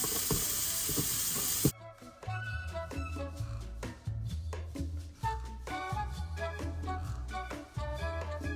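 Sweet potato fries sizzle and bubble in hot oil on medium heat, a steady close hiss at first that settles into crackling, popping fry bubbles with irregular bursts, no voices.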